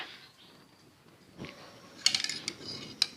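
Quick, light clinks and taps of a utensil beating eggs in a bowl, a short burst of rapid strikes followed by a pause and one more tap, fairly quiet.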